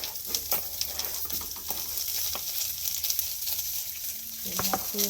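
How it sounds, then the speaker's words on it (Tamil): Mustard seeds, cumin, onion, curry leaves and green chili sizzle and crackle steadily in hot oil in a village kitchen, with a few sharp pops and stirring scrapes over a constant frying hiss. "தாளிக்க கடுகு கொஞ்சமாக ஜீரகம் கொஞ்சமாக தான் எண்ணெய் ஊற்றியிருக்கோம் வெங்காயம் கருவேப்பிலை பச்சை மிளகாய்"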